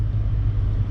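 A manual Dodge Challenger eases away from a stop in first gear, its engine giving a steady low, close rumble that holds through the brief moment without voices.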